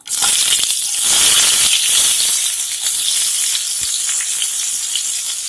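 Chopped onions hit hot oil where mustard seeds have already popped, for a poori potato masala, giving a loud, steady sizzle with crackling bursts near the start that settles into an even hiss.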